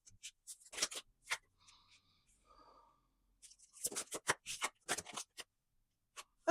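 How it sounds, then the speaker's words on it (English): Tarot cards are shuffled in quick papery riffles and slaps, coming in clustered bursts with a quiet pause between them, close and fairly soft. "I'm going to shuffle the cards and come back with your reading."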